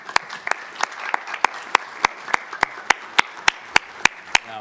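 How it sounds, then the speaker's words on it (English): Sharp, evenly spaced claps ring out one after another, about three per second, loud and close, like a single person clapping steadily. "let's give Betty a round of applause"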